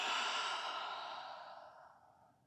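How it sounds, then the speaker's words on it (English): One long, breathy exhale during a slow, relaxing yoga flow, starting strong and fading out gradually over about two seconds, close and alone. "Exhale it out."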